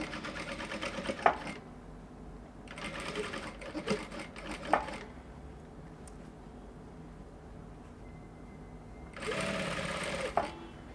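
A sewing machine stitches net fabric in three separate bursts of steady, rapid mechanical whirring, with quiet pauses between them.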